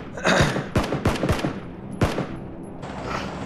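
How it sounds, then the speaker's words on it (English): Several loud, sharp gunshot bursts in PlayerUnknown's Battlegrounds, spaced irregularly over a few seconds, with a crackling tail after the final shot and no talk over them. "Somebody's shooting me."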